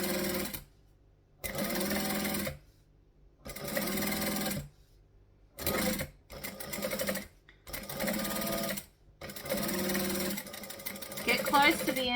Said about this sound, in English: we're going to stitch, backstitch, needle down, pivot.